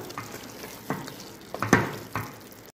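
Prawn biryani masala with garam masala is stirred in a pan: about five short scraping, sizzling strokes, spaced irregularly and fairly close, over a low frying hiss.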